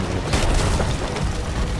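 A heavy cannon shot booms against a sloop's mast in Sea of Thieves, a loud, dense roar of blast and crashing noise filling the whole short moment.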